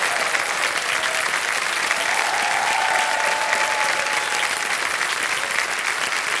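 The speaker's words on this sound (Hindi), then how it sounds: "तालियां बज जाएं जोरदार इनके लिए" Studio audience on the KBC quiz show clapping hard and continuously, a dense, even patter of many hands sustained throughout with no pauses.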